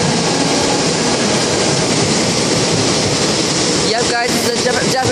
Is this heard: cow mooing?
no